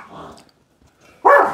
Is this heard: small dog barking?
yes